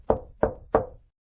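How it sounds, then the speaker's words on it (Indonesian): Three firm knocks on a wooden door, evenly spaced about a third of a second apart, close and clear with nothing else audible. "Namun cukup untuk membuat Agung akhirnya mengetuk pintu itu."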